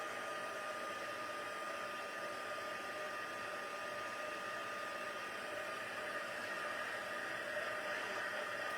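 A heat gun blasts steadily while melting embossing powder for card-making, a constant close, loud airy whoosh like a hair dryer that holds unchanged with no pauses.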